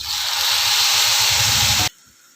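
Two large tomatoes hit a hot pan while making tomato dal, setting off a loud, steady hissing sizzle for about two seconds that then cuts off abruptly to near quiet.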